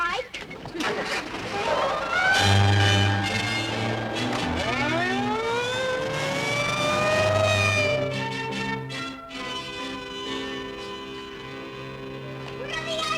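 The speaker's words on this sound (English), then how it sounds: "I might even run the siren for you a little bit." A police car siren wails from inside the vehicle, rising and falling in long sweeping tones for several seconds under a low engine rumble, then winding down as voices talk.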